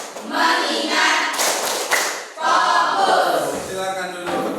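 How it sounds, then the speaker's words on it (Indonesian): Pupils chant together in a classroom while clapping in patterned bursts of the tepuk fokus routine, several crisp group claps punctuating the rhythmic unison voices. "Tepuk fokus."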